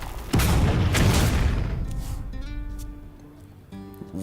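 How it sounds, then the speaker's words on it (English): A bomb explodes in the card game Hearthstone with a loud, deep boom that rolls away over a second or two, followed by fading tonal chimes from the game. "there's another bomb"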